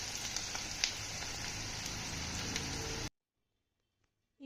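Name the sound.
okra (bhindi) frying in oil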